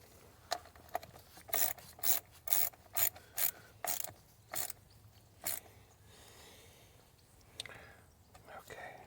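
Ratchet socket wrench loosening golf cart battery bolts, heard as a string of short, sharp ratcheting bursts in quick succession, with a few more spaced clicks afterward over faint background noise.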